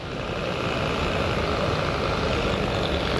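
A Snap-on DA sander left idling during body work on a 1962 C10 pickup, a loud, continuous steady whir and drone with no pauses or talk.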